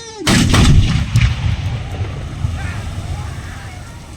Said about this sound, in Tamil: அந்த வண்டி பிளாஸ்ட் ஆகும்